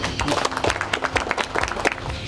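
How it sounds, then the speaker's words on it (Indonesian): A crowd at an official ceremony in Bangka Barat applauds for the ATR/BPN land agency with a short burst of lively, fairly close clapping that stays steady for a couple of seconds. "Tepuk tangan untuk BPN."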